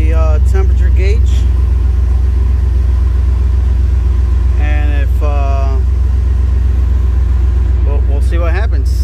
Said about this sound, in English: so we've turned on the truck